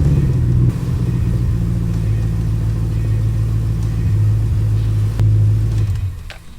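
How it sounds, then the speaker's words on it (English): A Ford BA Fairmont Ghia with a 5.4 V8 engine idling close by: a loud, steady low rumble with a slight rise in revs near the end before it fades. "That's that sweet V8 noise."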